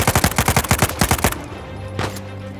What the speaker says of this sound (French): Il tire dessus, mais je sais pas d'où.